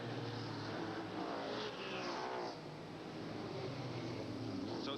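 Race car engines at a 1990 SCCA Trans-Am race in Des Moines, Iowa, including a General Tire Ford Mustang, a continuous distant roar that rises and falls as cars pass under broadcast commentary.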